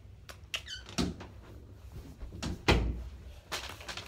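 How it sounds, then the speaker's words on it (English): A door being shut indoors, with creaky squeaks from the hinges and a couple of sharp thuds as it swings and closes. "Close the door."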